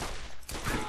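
Rapid gunfire and explosions in the video game Borderlands, a dense one-second burst of loud overlapping shots and blasts with no pause.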